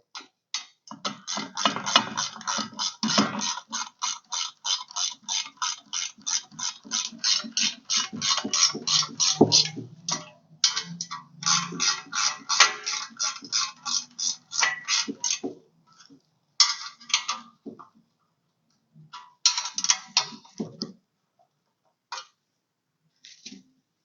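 Ratcheting wrench tightening bolts on a Polaris Ranger rear bumper, with a long run of rapid, close metallic clicks, then pauses and shorter bursts of ratcheting.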